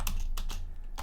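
Computer keyboard keys clatter as code for a Geant4 radioactive decay simulation is typed, several quick close keystrokes in short bursts over a steady low hum.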